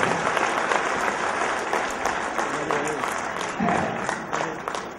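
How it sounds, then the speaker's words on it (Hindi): Loud, sustained applause from an audience at a birthday celebration closing ceremony, dense steady clapping filling the whole stretch with a few voices mixed in. "हमको जोरदार तालियों से सम्मान"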